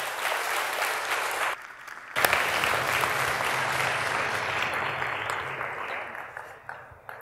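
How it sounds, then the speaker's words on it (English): Sustained audience applause after a talk on making things move with motors, dense clapping that dips briefly then swells again and slowly fades near the end. "Let's have one more round of applause for Jonathan Beri."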